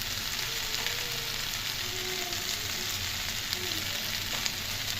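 Vegetables for chochchori fry in a pan with salt and turmeric, a steady close sizzle with faint crackles and no talk.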